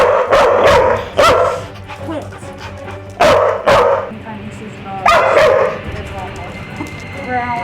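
A dog barks loudly in repeated bursts of two or three sharp barks, close by, with brief whines and low growly noise between them.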